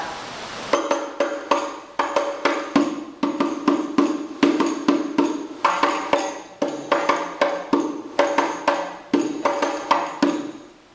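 Hadroh frame drums play a pukulan naikkan pattern: a steady, repeating stream of crisp hand strikes in grouped rhythmic cells, with each hit decaying quickly and the pattern cycling evenly throughout.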